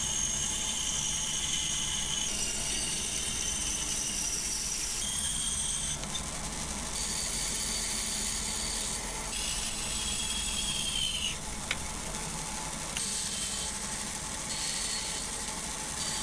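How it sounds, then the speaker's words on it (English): Flashing and sprues are cut off metal castings for a carnival ride on a large bandsaw, making a steady, fairly quiet machine whine whose tones shift as cuts start and stop. "First thing we need to do is cut off all the extra flashing and the sprues from these castings."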